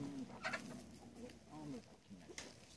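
Chickens cluck softly on a rural Brazilian farm, with a few short, faint calls scattered over a quiet background and some soft human voices mixed in.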